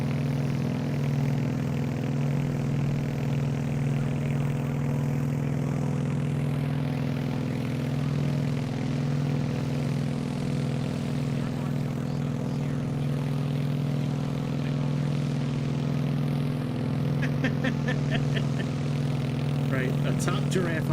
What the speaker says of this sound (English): It's one of the more fun propeller planes that I have.